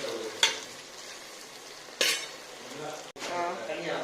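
Tomatoes sautéing in a clay pot for a Chettinad fish curry, with a steady low sizzle broken by three sharp stirring scrapes and a brief clink of a utensil against the pot.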